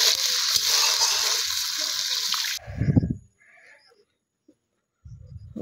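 Water pours into an egg curry in a pan, a loud steady gushing stream that stops abruptly, followed by brief stirring and clattering sounds close by.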